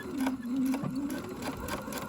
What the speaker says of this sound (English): I'm going to back stitch on this one,